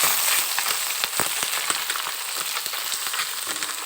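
Puti fish fry in hot oil in a kadai, crackling loudly with a dense run of sharp spitting pops over a steady sizzle, close up and free of speech.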